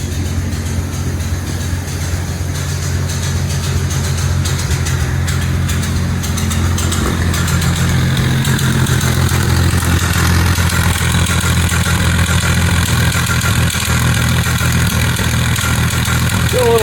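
A 1948 Dodge flathead six with shotgun dual exhaust idles steadily and loudly nearby, a deep even rumble with a faint rhythmic tick, running cold.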